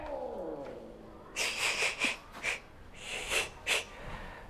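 Cats fighting indoors: a run of sharp hissing spits and snarls, about seven harsh bursts in quick irregular succession, loud and close, with no talk over them.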